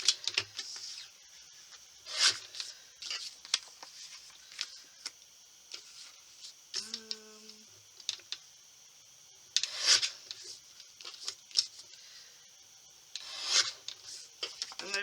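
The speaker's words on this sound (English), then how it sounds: "Let's trim the photo down." Scissors trimming a photo into strips for a mixed media piece, giving soft scattered snips and paper rubs in short bursts, close and fairly quiet with no talking.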